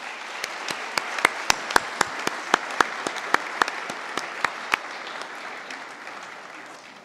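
Applause for scholarship recipients at a school foundation awards ceremony: a room of people clapping steadily, with a few loud, sharp claps ringing out near the front before the sound thins toward the end.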